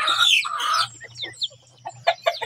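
Chickens cluck close by in a few short bursts, with a squawking call at the start and softer clucks trailing off.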